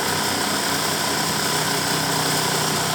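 A universal motor on a lab bench runs at reduced speed with resistance added, a loud, steady whining hum with even vibration throughout.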